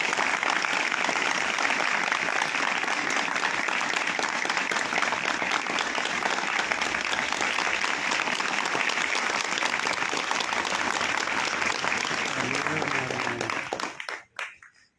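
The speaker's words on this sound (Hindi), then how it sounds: "जोरदार तालियां" Loud, sustained applause from an audience at a gathering fills the room as a dense, even roar of clapping, with faint voices beneath it before it dies away abruptly at the end.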